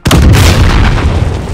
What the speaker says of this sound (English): That was a C4.